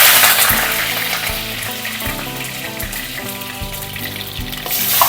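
Curry leaves dropped into hot oil while cooking a jackfruit and prawn dish crackle into a loud, steady sizzle with bursts of spattering, close and continuous with no talking.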